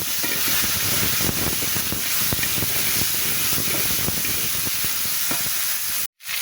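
Potatoes and onions dropped into hot oil with cumin and black cumin seeds hiss and sputter in a loud, steady frying crackle, with scattered pops throughout and a brief cutoff near the end.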